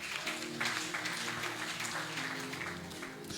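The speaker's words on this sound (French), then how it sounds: "Acclamons pour le Saint-Esprit." An audience applauds steadily during a church service, a soft, continuous wash of clapping with sustained music tones underneath.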